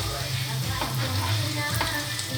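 Garlic sautés in a pan for a crab meat dish, a steady close sizzle with soft stirring clatter and scrapes running throughout at even loudness.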